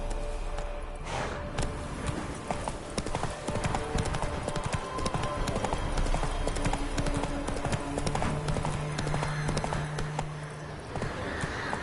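Roach the horse from The Witcher 3 galloping with rapid, continuous hoofbeats that stay close and prominent, layered with other in-game sounds and a faint tonal hum.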